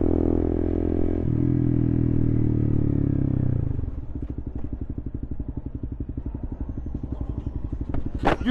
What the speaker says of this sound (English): You don't see the motorcycle?